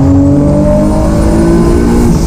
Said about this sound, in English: The legendary Nissan 370Z. Eat my exhaust fumes, dinosaur!